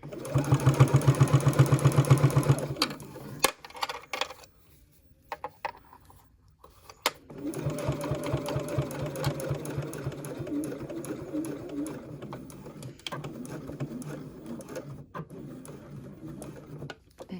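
Sewing machine stitching a wrist strap, with a loud close motor whir for a few seconds, a pause with small handling clicks, then a longer steadier run of rapid needle strokes with some faint voice in the background.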